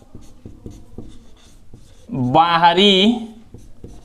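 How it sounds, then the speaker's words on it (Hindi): Writing on a classroom board during a maths lesson: a steady series of short, sharp taps and scratches, with one spoken word rising clearly over them partway through. "हम लोग लिखेंगे"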